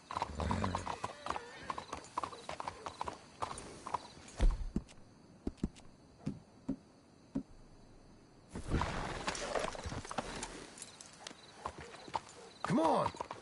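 Horse hooves clip-clop in an irregular walking rhythm in Red Dead Redemption 2, with a neigh and scattered voices and rustling, busier bursts of activity at the start and later.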